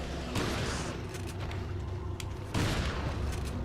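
Repeated shotgun blasts in the video game Resident Evil 4, loud booming gunfire over a dense, sustained din of game noise, with a heavy burst near the end.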